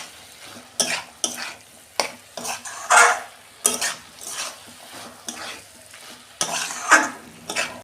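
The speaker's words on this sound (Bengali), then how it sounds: "বন্ধুরা আমি ভালো করে কষে নিয়েছি।" Banana flower and prawns are stir-fried in a pan, with a spatula scraping and clattering in repeated, irregular strokes over a light sizzle. The sound is close and fairly loud, with no talking.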